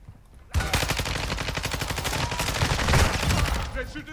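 Rapid enemy gunfire in the video game DMZ erupts after a brief quiet start, loud, dense bursts of shots continuing without pause for several seconds.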